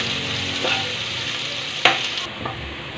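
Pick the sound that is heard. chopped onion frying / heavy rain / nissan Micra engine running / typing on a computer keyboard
chopped onion frying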